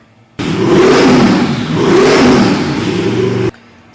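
Nelson Racing intercooled supercar engine on a dyno at 36 pounds of boost, a loud roaring pull that rises, dips briefly and climbs again for about three seconds before cutting off sharply.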